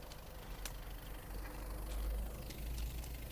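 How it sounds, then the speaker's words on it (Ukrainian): A 2019 Volkswagen Passat B8 Highline engine idles steadily and evenly, a low continuous rumble close by with faint ticking on top and no voices. "моторчик працює рівненько"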